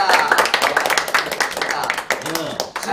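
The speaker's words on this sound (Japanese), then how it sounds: "はい、拍手。" Scattered hand clapping from a small group rattles along briefly while voices talk and cheer over it.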